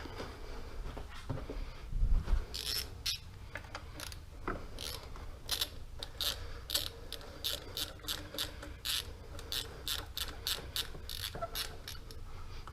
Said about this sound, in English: using an 8mm socket, loosen the OEM clamp from the throttle body.